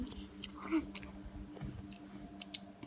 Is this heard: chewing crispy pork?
yes